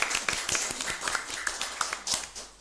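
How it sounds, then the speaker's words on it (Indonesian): Scattered clapping from a small audience at a health talk, distinct individual claps in an uneven rhythm, fairly close and moderately loud, tapering off at the end. "tepuk tangan dulu dong."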